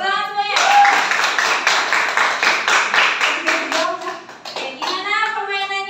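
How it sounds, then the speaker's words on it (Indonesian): Students in a classroom clap together for a winning group in a lesson game, a burst of rhythmic hand claps with children's voices chattering before and after. "Ya, tepuk tangan semuanya."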